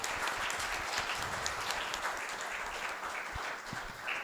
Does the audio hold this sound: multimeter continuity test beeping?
no